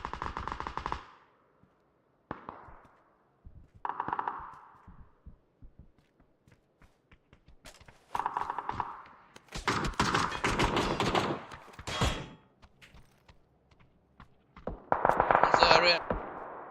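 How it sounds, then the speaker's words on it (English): Gunfire in PUBG, with bursts of rapid shots and sharp single reports at mid distance, spread through the clip and alternating with stretches of near-silence and a player's talk. "Someone's like shooting over there"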